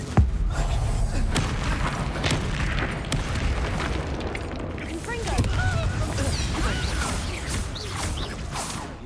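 Confringo blasting curse in Hogwarts Legacy sets off a series of booming explosions and crashing impacts, close and loud, mixed with combat clatter and voices speaking throughout.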